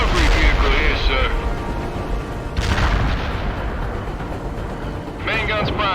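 Abrams tank main gun firing HEAT rounds in the war video game World in Conflict, heavy booming blasts and rumble running under loud radio-style voice chatter throughout.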